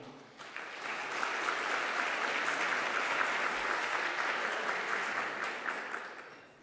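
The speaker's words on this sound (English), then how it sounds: "Je vous prierai, mesdames et messieurs, d'applaudir Madame Anneli Perret-Clermont." An audience at an academic education conference's opening session applauds for several seconds, a moderately loud wash of clapping that swells and then fades.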